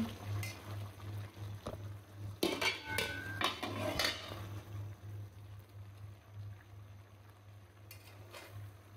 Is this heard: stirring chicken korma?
yes